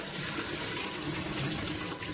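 Water from cooked spaghetti pours out steadily through a strainer in a home kitchen, a continuous rushing splash with no talk.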